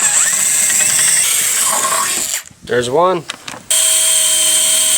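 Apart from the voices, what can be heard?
power drill drilling pilot hole with small bit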